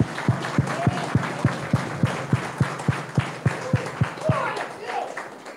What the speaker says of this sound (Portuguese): Não, vamos bater palmas,